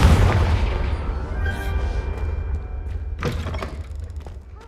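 A Confringo spell explodes in the video game Hogwarts Legacy with a heavy booming blast and rumbling low-end decay, followed by a sharper thump, loud and close.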